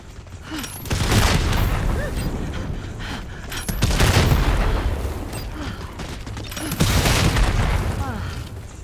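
Grenade explosions mixed with gunfire in a video game, with three heavy booming bursts spaced a few seconds apart, each loud and rumbling before it tails off.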